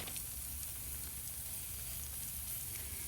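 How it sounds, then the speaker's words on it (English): Carne asada steak sizzles on a collapsible grill, a faint, steady crackling hiss that holds evenly across the short stretch with no talking. "Listen to it sizzle."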